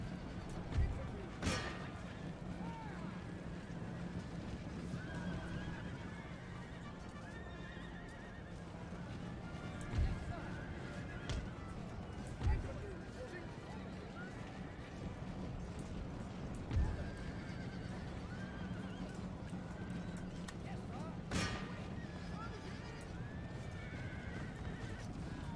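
Cavalry horses in the Total War: Empire strategy game neigh and whinny amid the galloping clip-clop of hooves, set in a dense, continuous battle din with sharp louder cracks now and then.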